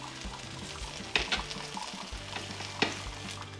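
A Korean pancake fries in a pan with a constant close sizzle, joined by a couple of sharper scrapes and taps as it is moved around.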